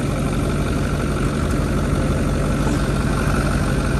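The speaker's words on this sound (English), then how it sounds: "Yeah, that's that diesel, man." A Ford Power Stroke Super Duty diesel engine idles loudly and steadily up close, a dense continuous low rumble with no breaks.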